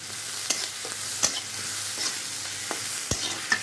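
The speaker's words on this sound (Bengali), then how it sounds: "তারপর নেড়ে চেড়ে" A spoon stirs a pan of raw banana and catla fish curry with salt, giving scraping clicks at a steady, irregular pace over a soft, continuous sizzle close by.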